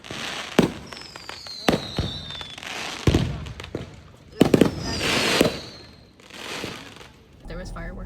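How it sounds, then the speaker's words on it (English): Fireworks bursting outdoors at a family home during a holiday celebration, with sharp cracking booms and rising whistles spaced through the clip, some loud and close, while voices talk in the background. "We just went to my parents' house and shot fireworks"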